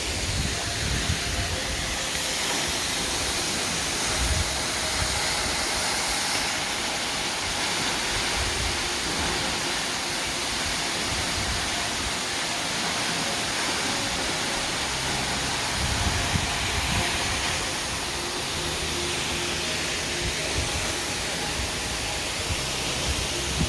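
Running Creek Waterfall in Lamington National Park, a 100 m tall fall, roars at its base as a loud, dense, unbroken rush of crashing water.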